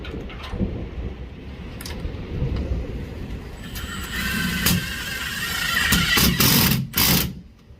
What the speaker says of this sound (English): put all the self-tapping screws in